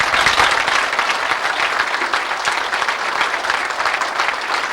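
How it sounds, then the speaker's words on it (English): A dense, steady round of audience applause at an evening cattle market forum hosted by the Farm Bureau in Billings, Montana, many hands clapping loudly and evenly for the whole stretch. "Let's give them a round of applause,"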